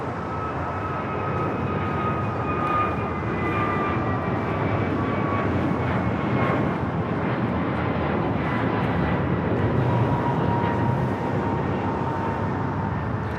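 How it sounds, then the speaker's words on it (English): An American Airlines Airbus A321neo takes off from Los Angeles International Airport, a steady, loud, broad jet engine roar with a whining tone that slowly falls in pitch, going on continuously with no talk. "That is American Airlines Flight 3149 taking off to Miami, Florida on the A321neo."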